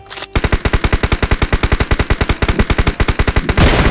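Automatic gunfire in the mobile battle royale game BGMI: one long, loud, rapid burst of about thirty evenly spaced shots, close and alone, ending in a brief noisy tail.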